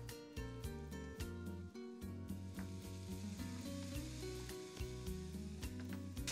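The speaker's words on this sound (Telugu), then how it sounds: "సో ఇదే ప్యాన్లో మనం గాజర్ కా పేస్ట్ కొంచెం ఫ్రై చేసుకుందాం." Carrot paste sizzles and fries steadily in a pan, a constant hiss that sits beneath louder background music playing throughout.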